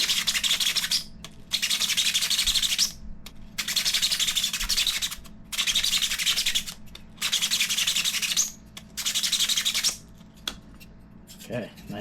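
Sandpaper rasps loudly up and down across a 3D printed part for a Traxxas 2WD RC car, in long harsh strokes repeated about six times with brief pauses between them.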